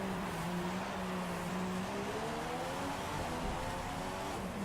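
A Formula 1 car in F1 2015 exits the pits at Singapore with a continuous, droning engine hum whose pitch wavers and slowly rises under steady broadband noise.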